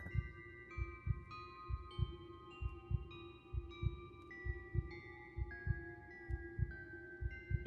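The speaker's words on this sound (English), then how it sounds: "I hear a heartbeat." Steady heartbeat effect with paired low thumps in a regular rhythm, about two beats per second, under a soft sustained hum and faint high tones. It is close and distinct, with no talk.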